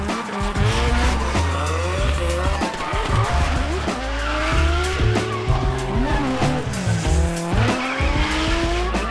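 Drifting cars at a Japanese expo howl with constant engine revving, wheel spin and long tire squeals, loud and continuous with no break.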